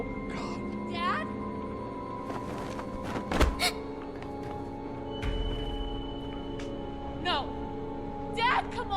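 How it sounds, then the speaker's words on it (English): A few heavy thuds against a door in The Walking Dead Season 1 game, two close sharp knocks amid tense dialogue and a lingering low rumble. "I'll break that damn door down."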